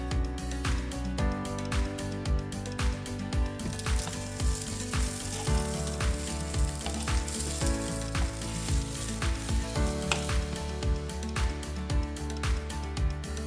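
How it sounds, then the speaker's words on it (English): Pav bread toasts on a hot pan with bhaji for Mumbai-style pav bhaji, a steady close sizzle broken by regular clicks and scrapes from a spatula or tongs, with no voices. "slather more bhaji on top. Toast both sides and it's ready to serve."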